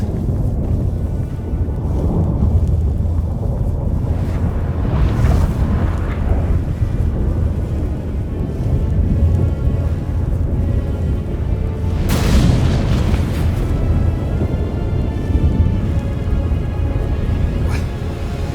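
A storm rages in The Witcher 3: Wild Hunt game with a constant roaring wind and deep rumbling. Heavy thunder-like booms swell twice over the dense, loud noise.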